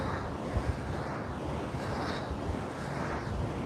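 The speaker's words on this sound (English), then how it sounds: "hopefully the wind is not too bad" Outdoor wind buffeting a microphone during a workout session, a steady rumbling roar that fills the whole clip with only small bumps in loudness and no talking.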